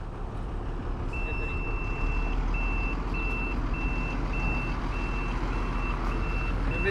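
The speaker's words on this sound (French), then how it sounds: "Là, il veut se mettre en marche arrière." Truck backing up on a road, a regular high reversing beep repeating steadily over a loud continuous engine rumble, close by.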